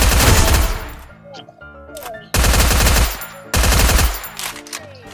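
Loud bursts of automatic gunfire from the shooter game Free Fire come in three rapid volleys separated by short pauses, with faint game effects in between.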